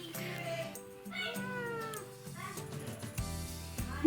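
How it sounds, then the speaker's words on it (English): A house cat meows repeatedly at close range, a string of drawn-out, wavering meows with short pauses between them, alone without talk. "My cat's saying hello."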